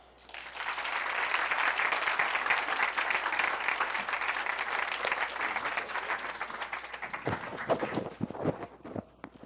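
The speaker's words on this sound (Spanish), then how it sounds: "Un aplauso, por favor, para Uriol" Audience applause for a comedian at a science comedy show, dense steady clapping from a crowd that tapers off near the end into a few scattered claps.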